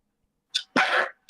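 A person sneezes during a tabletop Dungeons and Dragons session: a short sharp intake followed by a loud burst, and another begins just after, all close and with no talk.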